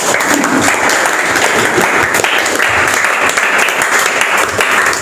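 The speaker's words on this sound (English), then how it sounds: "Clap for him." A classroom audience at an English academy claps for a former student, giving steady, dense and loud applause that stays level for about five seconds with no voices over it.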